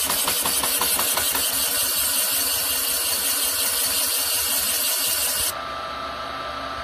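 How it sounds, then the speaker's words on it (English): A boring bar cuts a Yamaha 701 big-bore cylinder, a steady grinding machine noise with rapid rhythmic pulses from the interrupted cut at the exhaust port, then the cutting stops abruptly and leaves a quieter hum. "You can now hear the interrupted cut going through the exhaust port"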